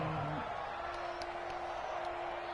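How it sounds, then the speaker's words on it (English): A stadium crowd in a football video game roars steadily throughout, a dense wash of cheering ahead of a big third down, with a faint voice underneath. "the crowd getting into it as we come up on a big third down"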